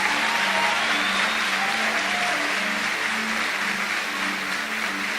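Sustained applause from a church congregation at a Sunday morning service, a thick wash of clapping that holds steady throughout over a faint low hum.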